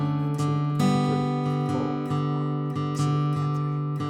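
Guitar playing a repeated break riff, with clear plucked notes in a steady rhythmic pattern, close and alone without talk.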